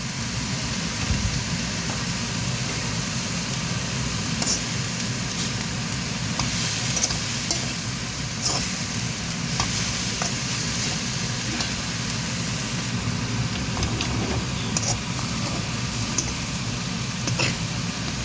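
Banana blossom stirred and fried in a pan with cumin and coriander powder, a continuous sizzle with scattered scraping and clinking of the spoon, close and steady throughout.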